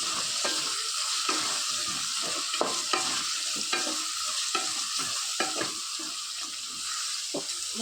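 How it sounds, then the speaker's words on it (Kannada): Onion and tomato sauté in a pan for rava upma, a soft continuous sizzle broken by repeated scraping stirs of a spoon against the pan, fairly quiet and with no talking. "ಮತ್ತು ಟೊಮೊಟೊ, ಇವೆಲ್ಲ ಹಾಕಿದ ನಂತರ ಈರುಳ್ಳಿ ಸ್ವಲ್ಪ ಬೇಯಿಸ್ಕೋಬೇಕು."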